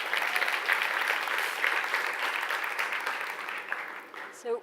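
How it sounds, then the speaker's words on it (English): Audience applause at a startup pitch event, a sustained dense clapping from a crowd that carries on steadily, then tapers off with a brief bump near the end. "Round of applause."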